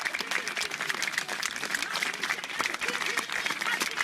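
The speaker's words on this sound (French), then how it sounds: "on doit les applaudir" A crowd at a solidarity rally for Syria in Paris claps outdoors, a fairly faint, uneven patter of hands with a voice speaking over and between the clapping.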